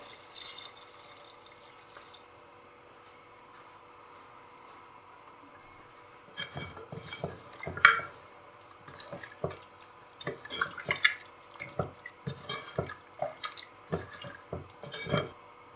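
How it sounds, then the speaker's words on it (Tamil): After a quiet stretch, two cups of water splash and pour into a pot of mutton kurma, with uneven liquid sloshes and clinks continuing close by. "இப்போ இதில் ஒரு 2 கப் தண்ணி ஆட் பண்ணுறேன்."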